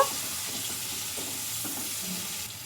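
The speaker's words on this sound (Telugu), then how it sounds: "ఇంకా ఈ పసుపుని వేసుకొని పచ్చి వాసన పోయే వరకు అయితే ఫ్రై చేసుకోవాలి 1 నిమిషం పాటు" Chillies and turmeric fry in a pan, making a close, steady sizzle with light stirring scrapes through the whole short stretch and no talking.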